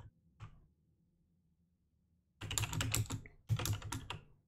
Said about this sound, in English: Sorry for the typing sounds, guys.